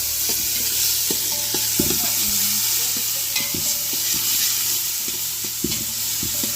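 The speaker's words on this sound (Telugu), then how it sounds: "ఆయిల్ బాగా హీట్ అయింది అనమాట ఆయిల్ వేసుకొని అయితే ఫ్రై చేసుకున్నా" Hot oil crackles and sizzles loudly in a pan while meal maker pulao ingredients fry, with repeated spoon scrapes and clatters against the vessel, close and constant, no speech.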